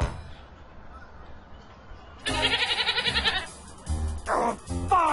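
A goat in the Ed Edd n Eddy video game lets out a loud, rhythmic bleating that pulses through a run of repeated cries, followed by more bleats and game sound effects after a quieter start.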